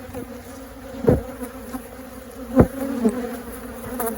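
Angry honeybees buzz around an opened single brood chamber, a dense steady hum close to the microphone with a few louder swells as bees pass near.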